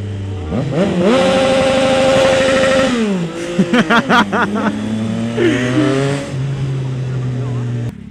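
A children's motorbike engine revs up loudly, cuts out, then sputters and idles in uneven bursts nearby, with voices talking over it.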